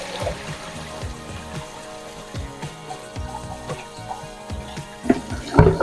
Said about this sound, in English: to dump some of this water out without losing carrots